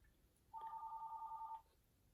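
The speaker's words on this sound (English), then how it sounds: "that's the phone" A telephone rings with a single steady electronic tone burst lasting about a second, fairly faint and alone in a quiet room.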